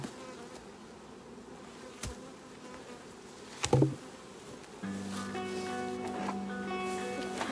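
A soft, continuous buzz of many honeybees around a hive, with a brief clatter partway through and a steadier droning hum joining later.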